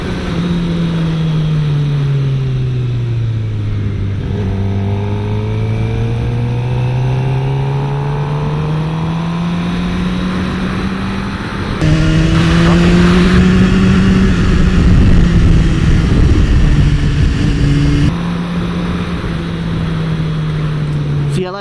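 A 2016 Suzuki GSX-R 750 motorcycle engine drones steadily while riding, its pitch rising and falling through throttle changes, loud and continuous with a louder surge midway; no one talks.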